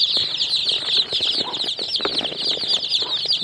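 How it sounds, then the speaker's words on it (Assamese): Local desi chicks peeping continuously as a box of them is opened on a small farm, a dense, high-pitched chorus of many birds with faint rustling and fluttering underneath. "মোৰ পোৱালি আহি গ'ল, এতিয়া আনবক্সিং কৰিম।"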